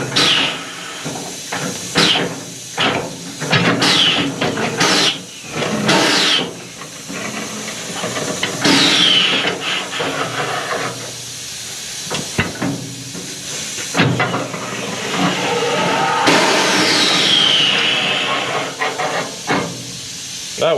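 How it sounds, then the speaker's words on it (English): Compressed air hisses in loud, repeated bursts from a leaking tire machine on a farm job, switched on and off over and over, with clanks and thumps of work sounding between the blasts. "the machine leaks, so I've got to cut the air on and off quite a bit"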